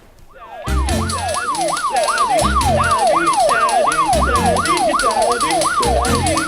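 A cartoon ambulance siren wails in a rapid, steady up-and-down pattern, loud and close, starting abruptly and running continuously with no talk over it.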